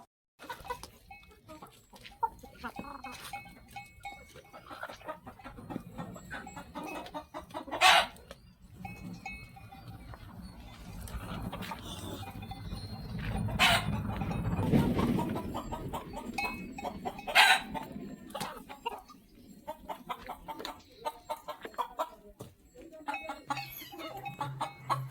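Hens cluck and cackle intermittently inside a poultry shed, with sharp calls near and far over low rustling, scratching and faint farmyard noise, and a quiet voice now and then.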